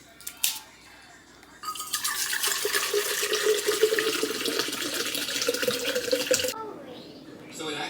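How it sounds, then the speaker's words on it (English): Tap water runs steadily into a cup for about five seconds after a short clatter, a loud broadband rush close by that stops abruptly, then faint handling noise follows. "now it's time to fill it up."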